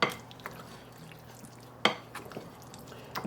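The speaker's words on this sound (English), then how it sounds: "And we'll stir it up." A utensil stirs lemon sauce in a pan, with a few sharp clinks of metal against the pan spaced apart and soft scraping between them, close and fairly quiet.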